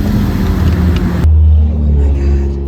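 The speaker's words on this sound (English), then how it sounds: "you're dealing with the sounds of cars driving by" Loud, close traffic noise in a city, with a steady engine rumble and road roar. It cuts abruptly to a deeper, smoother motor drone partway through.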